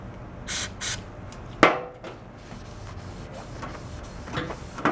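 Carb cleaner sprayed from an aerosol can onto a bike tire, two short hissing bursts followed by a sharp knock and scattered light handling clatter, close and moderately loud.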